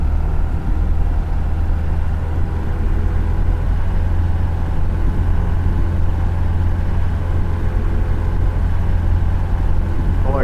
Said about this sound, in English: we're going to power up the engine to full power with brakes on